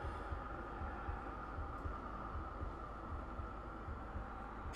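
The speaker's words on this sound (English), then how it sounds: "You can kind of hear a heart beating." Slow, muffled heartbeat thumps from an organ in the Bloodborne video game pulse steadily under a low droning hum, with no talk over them.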